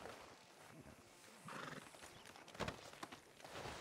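Horse hooves clip-clop on a town street in Red Dead Redemption II, with a horse whinnying, close and moderately loud among game ambience.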